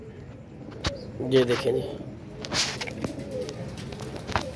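Pigeons coo softly in a pen, a low repeated murmuring under someone talking nearby, with a few sharp clicks and rustles.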